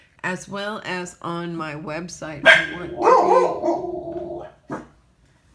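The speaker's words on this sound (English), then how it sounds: "Sorry about the dogs barking." Dogs barking and growling nearby, intruding over and after someone speaking at home, with a burst of louder barks in the middle of the talk.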